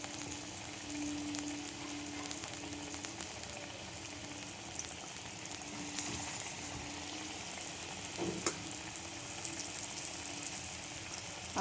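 Potato bora chops sizzle steadily as they fry in a pan of hot oil, a dense continuous crackle that stays loud and close throughout with no voices.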